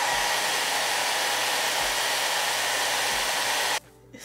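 A hair dryer blows steadily on a body wave wig, a loud, close, even roar that runs unbroken for nearly four seconds before cutting off abruptly into near silence.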